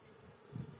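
Honey bees droning at the hive entrance near a rapeseed field, a low continuous buzz that swells slightly toward the end with no voices.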